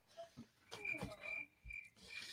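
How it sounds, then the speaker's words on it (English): A crickets-chirping sound effect played as a comic moment of silence: short, high, thin chirps repeat in an irregular rhythm at moderate loudness over a faint hiss. "Let's get a moment of crickets for Tilikum the Orca"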